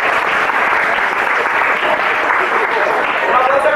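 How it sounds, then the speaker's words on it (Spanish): An audience at a talk on tourism and ecosystem impacts bursts into loud, dense, sustained clapping that holds steady throughout. "Deseen un aplauso a ustedes."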